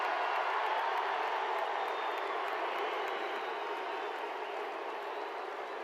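A stadium crowd applauds football players with steady, dense clapping and cheering that fills the space continuously, loud and even throughout with no pauses.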